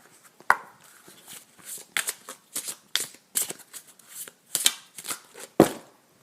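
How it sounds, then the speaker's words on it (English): Playing cards are handled and drawn from a deck, a series of crisp, close flicks and riffles in quick irregular bursts against a quiet background. "I'm told I'm allowed to pick one card from here."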